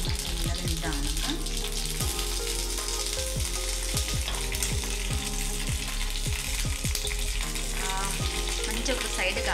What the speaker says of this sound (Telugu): ఒక 4 minutes సిమ్లో పెట్టి మూత పెట్టేసాం.